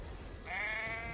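A single sheep in Assassin's Creed III bleats clearly over a steady low ambient hum, one drawn-out wavering call.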